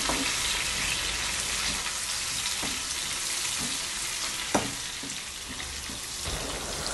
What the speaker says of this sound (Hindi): हम इसमें ऐड कर लेंगे थोड़े से करी लीव, लाइट ब्राउन कर लेंगे.